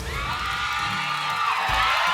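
A studio audience at Deal or No Deal shouts and cheers in a loud, sustained roar of whoops and yells, swelling toward the end.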